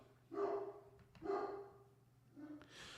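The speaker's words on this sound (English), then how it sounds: "My dog." A dog barks two loud, close woofs about a second apart, then a shorter, softer yip, with no talking over it.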